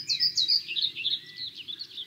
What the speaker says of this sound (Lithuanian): Leisim musinukai pasireikšti. Va, čia buvo būtent tas fragmentas čyri